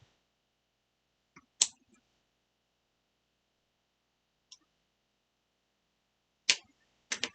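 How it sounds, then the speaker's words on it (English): Scissors snip through fabric while cutting a buttonhole, a few sharp isolated clicks spaced apart in near silence, with a quick pair at the end. "you can hear the click of the scissors"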